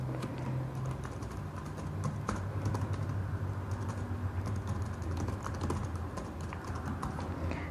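An axis name is typed on a computer keyboard into an Excel chart, a brisk, uneven run of close, light key clicks that keeps going throughout without any speech.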